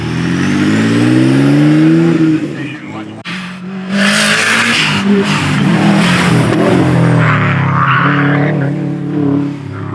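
A time attack race car revs hard at a championship final, the engine climbing and dropping through gear changes with tire squeal, loud and close; someone talks over it.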